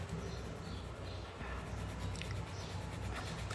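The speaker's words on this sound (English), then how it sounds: "you're just going to fill this up completely with a black pencil" A black Camel Supreme pencil shades a sheet of 180 GSM paper, making a faint, steady scratchy rasp of graphite strokes, soft and close with no talking.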